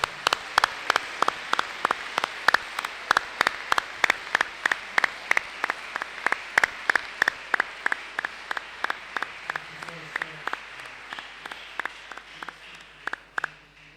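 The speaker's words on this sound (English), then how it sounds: "Can you just give him another round of applause?" Audience at a school valediction applauding again, a steady clapping wash with strong regular claps standing out in a rhythmic pattern, gradually thinning toward the end.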